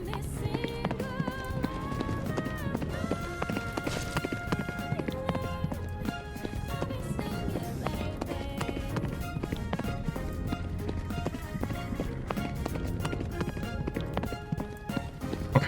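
A horse gallops steadily in the Western video game Bridger, its rapid hoofbeats running continuously under game music without a break.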